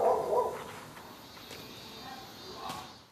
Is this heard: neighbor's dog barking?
yes